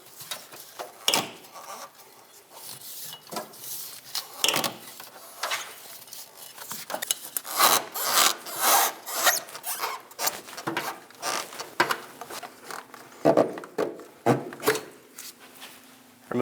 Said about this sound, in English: We're going to push our fuel filler neck into the hose farther until we're able to pull it down and clear where it mounts to.